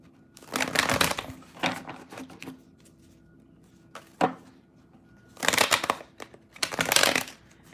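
Cards being shuffled close by in several separate bursts, each a quick riffle or rustle, with quiet pauses between.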